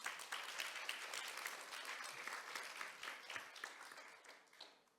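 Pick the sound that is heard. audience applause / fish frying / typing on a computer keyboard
audience applause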